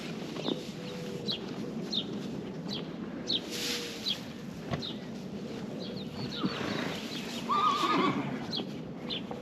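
A horse lets out a neigh over a low background, with a few hoof knocks and scattered shuffling sounds nearby.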